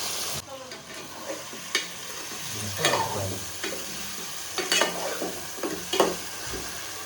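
Nellore-style fish curry (chapala pulusu) cooks in a pan with a steady background sizzle, broken by intermittent scraping and stirring clatters of a utensil against the pan.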